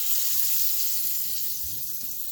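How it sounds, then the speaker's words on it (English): Butter sizzles steadily in a hot pan while breakfast with croissant, egg and cheese is prepared, a constant close hiss with no talking. "But be careful, butter can splatter everywhere."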